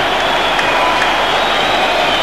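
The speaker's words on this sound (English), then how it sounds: "Look at this crowd, listen to this crowd" A boxing arena crowd at a WBA flyweight title fight roars and cheers steadily, a loud, continuous wash of voices and applause with no breaks.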